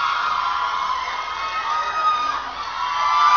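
A large concert crowd cheers and screams continuously and loudly for the arrival of a K-pop star at a concert, a dense, sustained roar with shrill voices, no speech.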